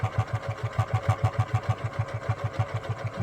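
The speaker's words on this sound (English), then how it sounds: "Just sew them flat." Sewing machine stitching a straight, flat seam, a steady fast rhythmic thumping of the needle at close range, about seven stitches per second, with no voice over it.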